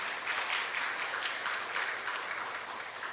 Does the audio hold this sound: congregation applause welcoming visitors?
yes